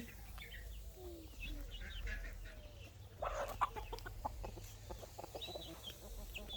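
Meat chickens clucking softly in a pen, with scattered short calls and a brief louder burst of squawking partway through, steady low background noise throughout.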